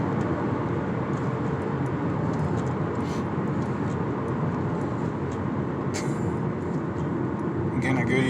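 A 2011 Chevrolet Camaro LS, freshly serviced with an oil change and fuel and intake system work, cruising at night on rural roads; steady loud engine and road drone from inside the cabin, with brief higher noises near the end.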